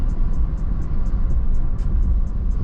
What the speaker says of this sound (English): Motor's extremely quiet.